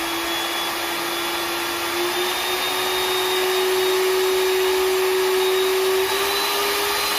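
A steady electric cake mixer motor whine runs continuously, loud and close, with a constant pitch that creeps slightly upward over time as the speed is raised.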